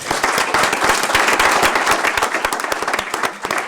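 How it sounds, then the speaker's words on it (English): An audience claps for the panelists at the close of an economic development Q&A session, loud and close, with sharp individual hand claps popping out of the dense applause before it begins thinning toward the end. "I would give a very big round of applause to our panelists"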